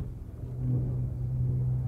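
A car with an electrical fault is started, giving a steady low engine rumble with a droning hum that swells slightly after the first moment and holds to the end.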